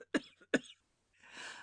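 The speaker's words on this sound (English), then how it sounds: "she coughed violently" A woman's violent coughing fit, two sharp harsh bursts with a short catch between, followed by a raspy breathy exhalation, close and alone.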